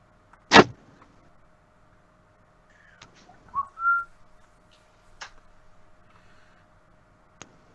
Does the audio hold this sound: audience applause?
no